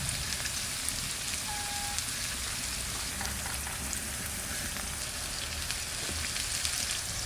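Chillies for a gourd curry are washed under water, making a constant, dense splashing and pattering throughout.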